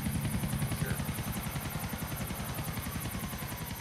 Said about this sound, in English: No, I don't want this helicopter.